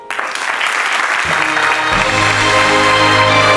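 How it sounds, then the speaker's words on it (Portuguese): An audience at an authors' gala applauds an author, loud sustained clapping swelling in right away, with music or tonal sound entering and building beneath the applause. "uma salva de palmas para o Pedro Rodrigues"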